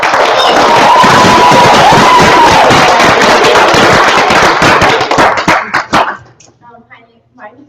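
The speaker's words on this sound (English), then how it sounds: "Please give them a round of applause." Dense, loud applause from a school presentation audience, broad and steady for about six seconds with a few shouts and whistles, then tapering off into scattered claps and quiet.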